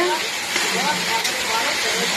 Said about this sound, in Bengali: আমাদের চাউমিনের আলু ভাজা হচ্ছে